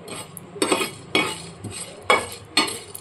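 Whole cumin seeds roasting in a dry pan rattle under about five rhythmic scraping strokes of a spatula, close and fairly loud, with only a faint sizzle between strokes.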